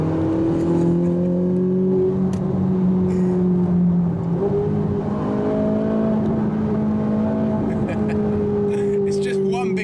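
A Ferrari 458 Italia engine revs and pulls through gears, a loud, smooth whine rising and dropping in pitch with a steady rumble underneath, close and continuous.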